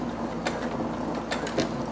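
A sewing machine stitches fabric for a tube bag, its mechanism whirring and ticking steadily with a few sharper clacks as it backstitches, close by and with no talking.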